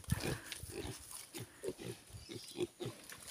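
On a farm, pigs and piglets grunt and snort repeatedly at close range during a bath, with low rhythmic oinks over a steady hiss of background noise.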